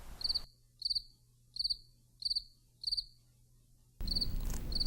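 Crickets chirp in five evenly spaced, loud, bright trilled bursts close by, with a steady low hum underneath and a final burst rising over a sudden wash of broadband noise.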